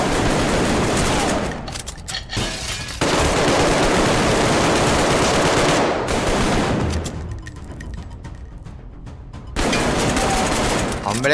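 Gunfire in the video game Arktika.1, loud sustained bursts of rapid automatic shots broken by short pauses, with a brief shout between bursts.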